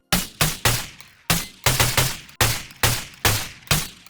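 Gunfire in the video game Space Station 13: about a dozen sharp, punchy shots at an irregular rhythm, each with a short decaying tail, loud and close, no voices.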